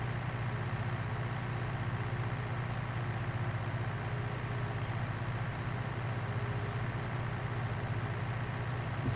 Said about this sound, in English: I love this tractor.